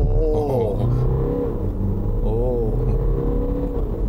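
A 2-litre diesel MINI Cooper D Crossover accelerating hard in an acceleration test, with a loud, steady engine drone rising in pitch over rumble, and people talking inside the cabin.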